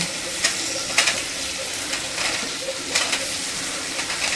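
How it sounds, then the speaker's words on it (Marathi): Okra (bhindi) sautéing in oil gives a continuous close, loud sizzle with faint spatter. Regular stirring strokes scrape the pan about once a second. "आता आपल्याला छान अशी भेंडी परतून घ्यायची आहे तेलामध्ये"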